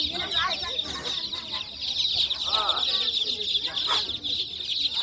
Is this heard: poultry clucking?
yes